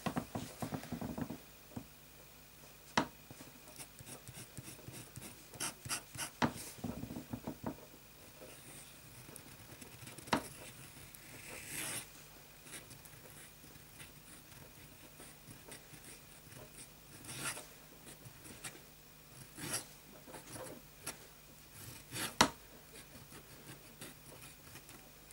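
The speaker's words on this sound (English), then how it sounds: "And then a bit of flexi writing." A flex-nib fountain pen writing on paper with Montblanc Leonardo Red Chalk ink, heard as faint, close scratchy strokes and small taps in irregular bursts, with no one talking.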